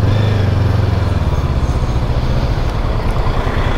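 A Honda CB500X motorcycle on a test ride in Kallithea, its engine a loud, steady, close drone with constant road rumble throughout.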